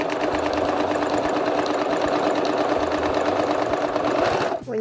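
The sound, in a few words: sewing machine stitching at full speed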